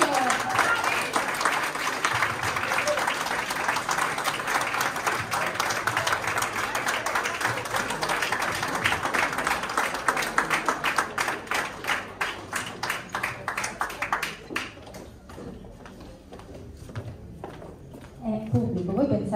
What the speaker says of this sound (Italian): voglio sentire queste mani che devono applaudire